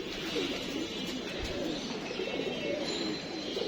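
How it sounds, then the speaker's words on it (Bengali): A racing pigeon at the loft gives soft, low cooing close by, with light rustling and faint chirps in a quiet outdoor setting. "একত্রিশ নাম্বার কবুতর চলে আসছে"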